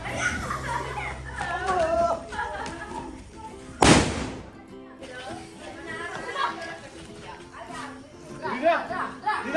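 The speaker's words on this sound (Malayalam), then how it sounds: "നമ്മള് വലിയ കുണ്ട് പൊട്ടിക്കാൻ പോണേ." A big firecracker bursts loudly once at an Eid night celebration, a single sharp blast standing out amid continuous crowd chatter, children's voices and background music.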